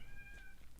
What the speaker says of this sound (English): Yes, I got a cat.